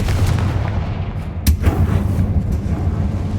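A Confringo fire spell is cast in Hogwarts Legacy, going off as one sharp explosive burst over a steady, loud rumble of game ambience.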